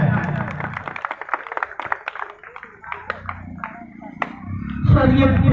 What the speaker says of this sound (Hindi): मैं चाहूंगा कि शेरपुरा की धरती से उनको तालियों से स्वागत किया जाए